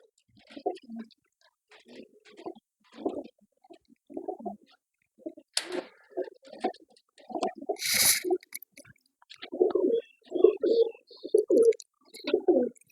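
A pigeon kept for sale coos close by in a steady series of soft, throaty phrases that grow more frequent toward the end, with a brief rustle midway.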